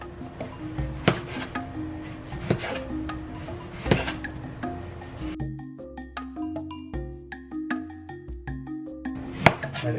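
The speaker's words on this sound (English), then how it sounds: "I'm gonna cut it at an angle" A knife cuts green plantain at an angle on a board, with a steady series of short, close chopping knocks and light clinks in a kitchen.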